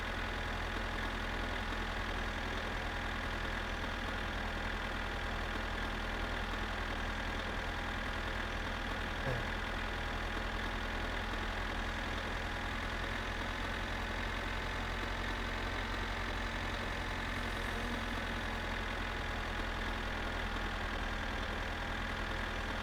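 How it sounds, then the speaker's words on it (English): A tractor engine idles steadily in the video game My Summer Car, a constant low rumble with a slight knocking texture that drones on unchanged throughout, with no talking. "my ears are starting to become numb from the sound of the tractor"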